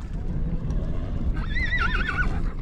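A horse on a trail neighs once in a loud, wavering whinny over steady rumbling background noise.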